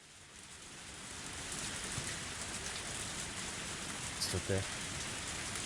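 Rain pours steadily in the video game Higurashi When They Cry, a dense, even hiss that builds early and then holds, while a voice speaks softly over it.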